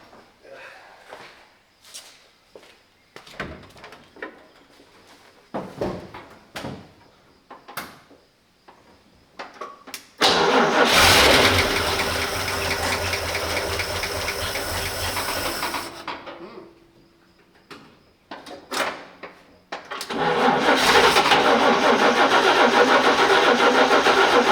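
A 1941 Chevy coupe engine, fed brake cleaner, cranks in short irregular bursts, then catches and roars loudly for several seconds, dies back, and fires up again into a loud, steady run, close by.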